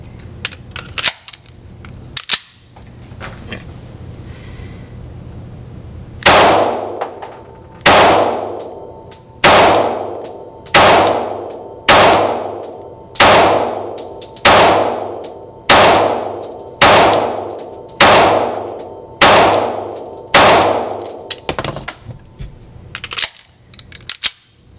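Taurus pistol fitted with a TORO slide kit firing at a steel zombie target: about a dozen loud, evenly spaced shots, each with a sharp metallic ring from the steel, heard alone after a brief quiet lead-in.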